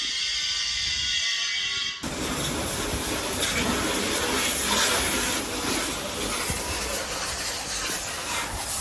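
Water sprays from a car wash jet with a loud, steady broadband hiss that starts abruptly after a quieter moment and keeps rushing, close up.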